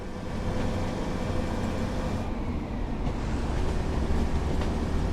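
A diesel train engine in a video game, a Class 142 Pacer, drones loudly and continuously, dipping briefly as it shifts gear and then revving back up.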